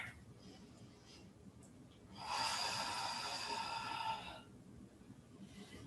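One long, audible breath is taken during a yoga pose on a mat, a soft airy rush lasting about two seconds between quieter stretches.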